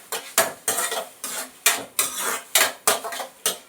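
Food frying in a pan, stirred in a steady rhythm of about nine scraping strokes, each a loud close swish over a low sizzle, with no talking.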